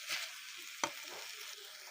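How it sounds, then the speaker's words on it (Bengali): Chicken pieces sizzle and fry in their own released water in a pan, a steady broadband hiss with one sharp clack of a utensil near the start, close and moderately loud, no voices. "তো এই পানিতেই আমি এগুলোকে সুন্দর করে ভাজা ভাজা করে নেব"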